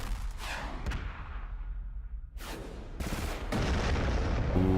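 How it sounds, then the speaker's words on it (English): A reactor detonation explosion in the space strategy game Stars In Shadows, heard as several loud, booming bursts that roll one after another and end in a dense, sustained rumble. "Reactor detonated."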